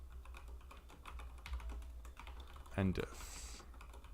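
Quiet, rapid clicking of a computer keyboard while C++ code for an OpenGL program is typed, with soft keystrokes in irregular runs and a brief spoken word near the end.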